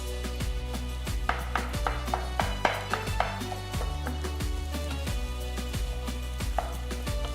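A spoon or spatula mixing masala and breaking potato pieces in a pan, producing repeated close taps and scrapes in an irregular rhythm over a steady background hum, no talking.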